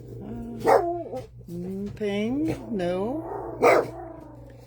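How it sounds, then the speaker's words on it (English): Several dogs bark at a passerby on the road outside, heard indoors in bursts under a person's voice that talks over most of it. "That's my dogs. Excuse my dogs."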